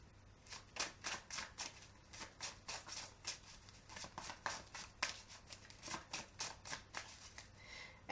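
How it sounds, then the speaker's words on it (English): Tarot cards being shuffled by hand, a soft rapid series of riffling and flicking bursts in an irregular rhythm, close and quiet, with no talk. "Let me pull a couple tarot cards"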